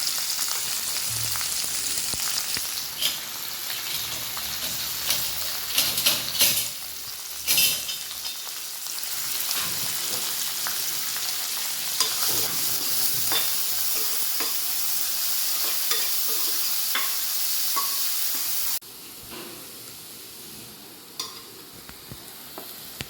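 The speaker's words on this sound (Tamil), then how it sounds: "வெங்காயம், கருவேப்பிலை அதெல்லாம் போட்டு நல்லா வதக்கணும்." Onions and curry leaves sauté in a pan under a constant loud sizzle, with repeated stirring scrapes throughout; the sizzle drops noticeably quieter near the end.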